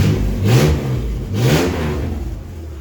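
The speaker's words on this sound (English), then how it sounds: "Give her one old throttle whap." A Baja truck's engine revs in two quick throttle blips, each roar rising and falling back to a rumbling idle, loud and close with no talking.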